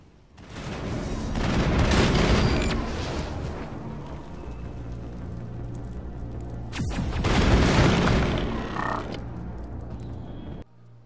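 Sustained weapon fire from the Mass Effect video game, loud dense bursts of shots lasting several seconds, pausing, then returning in a second long volley.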